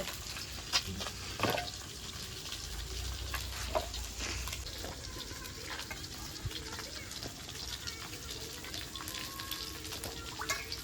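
Potatoes being washed in water in a village kitchen: faint splashing and sloshing with occasional clunks and clicks, steady and soft, close by and without talk.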